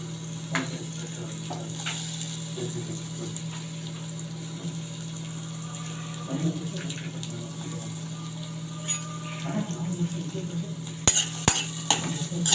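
Onions fry in butter for a sandwich, giving a low, steady sizzle over a constant hum, with occasional soft clinks of stirring and a few sharper knocks near the end.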